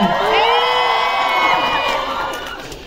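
A crowd at a film premiere for Jurnal Risa in Bandung erupts in loud cheering. High whoops and shouts ring out close and strong over clapping, then slowly fade across a few seconds.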